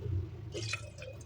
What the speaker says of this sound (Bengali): তাই এই কাপটাতে করে আমি জল দিচ্ছি।